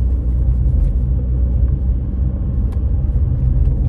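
Steady low rumble of a car creeping along slowly behind a heavy truck, a continuous close road and engine drone with no voices.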